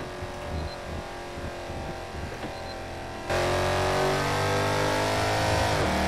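A loud Mercedes C63 AMG engine accelerates hard in a Tokyo freeway tunnel, a droning roar that jumps abruptly to a louder, sustained blare echoing off the tunnel walls.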